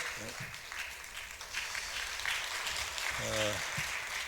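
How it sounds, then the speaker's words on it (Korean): Church members applaud at a Bible-reading award ceremony, a broad sustained clapping from the congregation while a voice speaks briefly at the start and again near the end. "박수 한번 쳐주세요."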